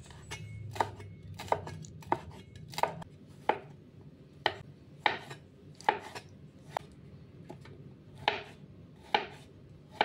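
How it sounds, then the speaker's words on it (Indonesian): Knife chopping onion, garlic, chili, tomato and kaffir lime on a cutting board, a dozen or so crisp, close knocks at a fairly steady, unhurried pace, with no talk. "Untuk cincang bumbunya ya posisikan bumbu urut seperti ini ya."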